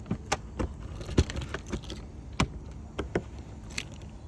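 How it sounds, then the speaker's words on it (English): Metal key clicking and jangling against the battery locker of a 2021 Buccaneer Barracuda caravan, a series of sharp close taps and rattles spread unevenly with no talk. "you just use the key to open and close the battery locker"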